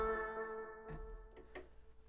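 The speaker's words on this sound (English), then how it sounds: "So the Matriarch has a very lovely analog delay" Moog Matriarch analog synthesizer holding a sustained tone with its analog delay mix turned up, soft repeating echoes trailing off behind the note, moderately quiet and alone.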